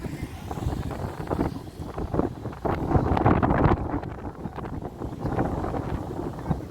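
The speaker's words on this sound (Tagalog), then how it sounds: "Lakas ang hangin, malamig talaga." Strong, cold gusty wind at a mountain viewpoint on Salacsac Pass buffets the microphone in loud, rumbling surges that rise and fall throughout.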